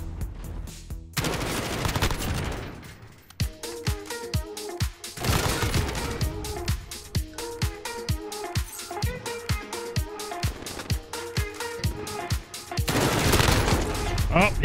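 Rapid gunfire in Call of Duty Modern Warfare Kill Confirmed multiplayer, bursts of sharp automatic shots and single cracks in quick rhythmic volleys, loud and dense throughout with a few brief pauses.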